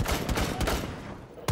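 Rapid bursts of gunfire in Rainbow Six Siege, a dense volley of shots repeating through the clip with a final loud crack at the end.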